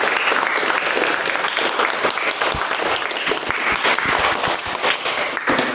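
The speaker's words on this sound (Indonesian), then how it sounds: "Silakan aplaus dulu untuk kita semua." Applause from a group audience after student presentations, a steady dense patter of many clapping hands throughout, close and loud with no talk.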